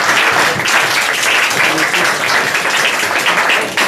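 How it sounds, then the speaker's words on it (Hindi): A classroom bursts into loud, sustained applause for a teacher, a dense wash of clapping from many pupils that continues throughout. "उनके लिए भी ताली बजाओ।"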